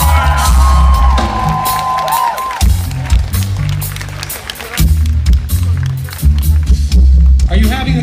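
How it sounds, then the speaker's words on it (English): A concert audience cheers and whoops for four musicians at a show, loud crowd noise swelling in waves, with amplified talk over it at times. "please join me in giving these four amazing musicians a round of applause"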